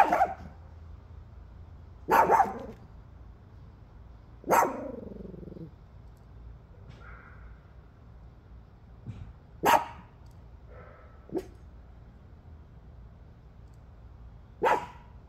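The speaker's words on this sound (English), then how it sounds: "Woof, woof, woof." A dog barks in sharp, isolated single woofs spaced a few seconds apart at a ranch shooting range. Each bark is moderately loud against a quiet background, and there is no talking.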